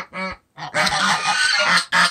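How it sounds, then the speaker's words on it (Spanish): Geese on a farm in the countryside of Loma de Cabrera, Dajabón, Dominican Republic, give loud, close honks: two short calls, then a longer harsh honking burst and a final call. "Aquí están los gansos"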